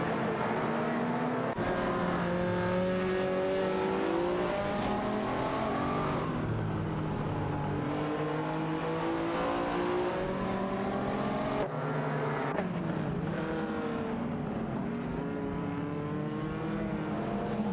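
Race car engines in a racing video game, including a Ferrari 308 GTS, rising in pitch as they accelerate and pass by in overlapping waves, with gear shifts heard as abrupt drops.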